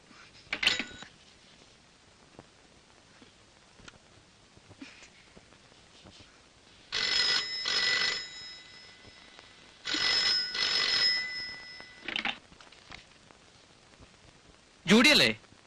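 A telephone bell rings in repeated bursts, with a short ring near the start and then longer rings in a steady double pattern, fairly loud and close in a quiet room.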